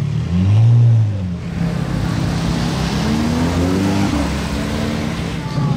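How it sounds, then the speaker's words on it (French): Lamborghini Aventador SV in yellow fitted with a modified exhaust, revving loud and close in a brief rising burst, then droning on as a steady engine tone under street ambience. "Encore une Aventador SV avec un échappement modifié."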